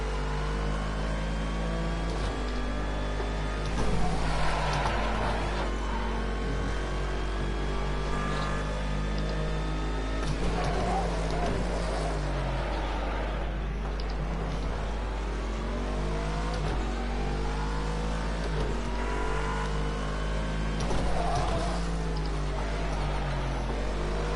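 A GT3 race car in Project Cars 2 at Ruapuna Park, low on fuel, revs hard and climbs through the gears, with engine pitch repeatedly rising and falling on shifts, loud and steady throughout with no talking.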